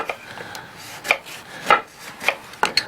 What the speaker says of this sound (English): I'll cut some slice for you if you want